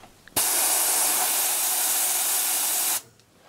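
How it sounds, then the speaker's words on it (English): A strong burst of compressed air blows for about two and a half seconds to clean a LEGO pneumatic switch, a loud, close, steady hiss that cuts off abruptly into quiet. "Here you just use a lot of compressed air and the cloth."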